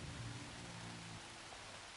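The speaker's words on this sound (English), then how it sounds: "The rain is coming down." Rain falling in the Horizon Forbidden West video game, a steady soft hiss of downpour with a low rumbling undertone, even and quiet throughout with no voices.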